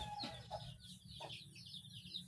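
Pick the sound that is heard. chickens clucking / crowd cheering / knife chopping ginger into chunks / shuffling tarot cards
chickens clucking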